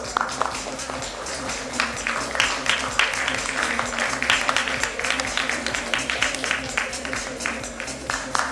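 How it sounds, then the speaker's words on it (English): Audience applause at a nursing conference panel held in a Mumbai hotel hall, sustained dense clapping with steady rhythmic hand claps running for several seconds, a low hum underneath. "Let's have a huge round of applause."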